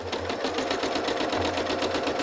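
A sewing machine stitches during free-motion quilting of a sampler quilt block, its needle chattering in a fast, steady run with a faint low hum beneath, close and alone for a couple of seconds.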